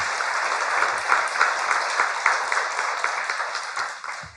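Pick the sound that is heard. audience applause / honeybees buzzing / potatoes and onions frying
audience applause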